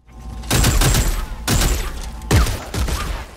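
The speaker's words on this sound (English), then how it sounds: "it's a shotgun with machine guns" A combination shotgun with machine guns fires in Dead Space 3, unleashing three loud, heavy bursts of gunfire with booming low-end thumps and short pauses between them, with no talk.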